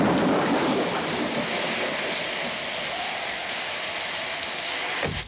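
Heavy film rain pours as a dense, steady hiss, loud and unbroken for several seconds, tapering off at the very end with no voices.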